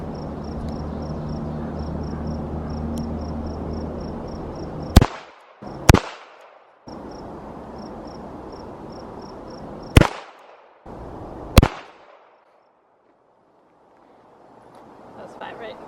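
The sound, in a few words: gunshots from a .38 snub-nosed revolver at a target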